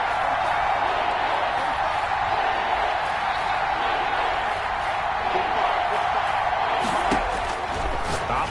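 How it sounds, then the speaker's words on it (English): A stadium crowd roars steadily in a Seahawks football video game, a dense sustained cheer building ahead of a big third down, with a commentator speaking over it. "the crowd getting into it as we come up on a big 3rd down"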